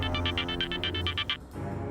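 A telephone rings in a rapid series of about ten electronic bursts, loud and close, then stops abruptly, leaving a low background hum from a tense crime-drama scene.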